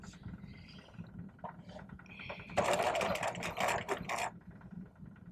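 A sewing machine stitching a buttonhole in fabric, quiet at first, then a loud, close burst of rapid mechanical stitching lasting under two seconds before stopping.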